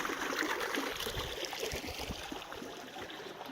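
Water from a mountain stream trickles and gurgles through a drainage pipe beside a mine road, a soft, steady, continuous flow heard up close without speech.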